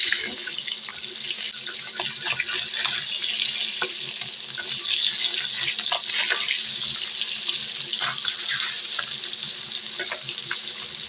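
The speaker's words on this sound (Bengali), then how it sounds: "এই যে আমার মাছ ভাজা হচ্ছে।" Pieces of rohu fish fry in hot oil in a wok in a home kitchen, giving a steady, close sizzling hiss with scattered sharp crackles throughout.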